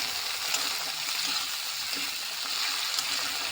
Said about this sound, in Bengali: জিরে বাটা, মশলাটা কষিয়ে নেব।